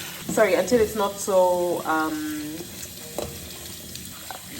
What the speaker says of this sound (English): I just kind of let it run through the colander until it's not so foamy anymore